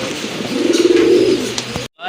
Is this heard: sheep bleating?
no